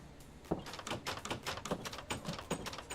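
A door opens in a Minecraft-style game on a server with claiming and trust settings, heard as a quick run of close clicks and knocks lasting a few seconds.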